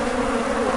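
A swarm of honeybees being rescued from a tree inside a cattle corral hums in a dense, steady drone that fills the whole moment without pause.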